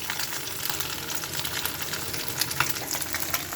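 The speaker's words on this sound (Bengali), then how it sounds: "তো এই মাছ ভাজা চলছে।" Fish lightly frying in oil in a kadai, a continuous close sizzle with occasional crackles and stirring.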